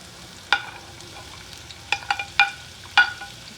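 Onions frying in oil with cinnamon for a Jaffna chicken curry, a quiet sizzle punctuated by a few sharp spatula taps and scrapes on the pot.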